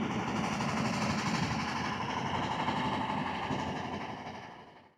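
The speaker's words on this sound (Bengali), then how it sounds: "আমাদের বোটের পাশ দিয়ে আরেকটা বোট যাচ্ছে" A passing boat on the Padma River drones steadily, with a loud engine rumble and a broad rushing wash that fade slightly toward the end of the pass.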